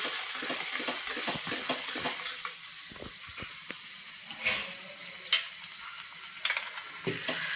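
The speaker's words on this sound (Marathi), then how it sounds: "इथे आपण साधारण पाच मिनिटे ही छान चटणी तेलावरती शिजवून घेऊयात" Garlic chutney sizzles softly in oil while a spoon scrapes and stirs the pan in irregular taps and clinks, fairly quiet and steady.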